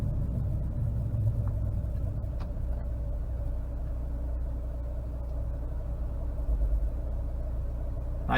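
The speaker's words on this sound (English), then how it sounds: "Nice smooth idle." A 1999 Honda Prelude's engine idles steadily, a low continuous rumble with a faint hum, close and even throughout with no revving.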